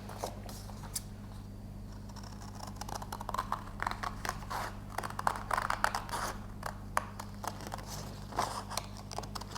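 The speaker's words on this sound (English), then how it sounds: "What I'm going to do first of all is just cut to get rid of the extra bit of card I don't need." Scissors cut through card in a series of quiet, close snips and crisp clicks, irregular in rhythm, over a low steady hum.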